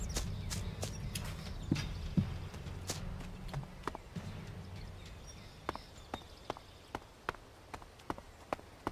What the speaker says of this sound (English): Oh god, I can hear their footsteps.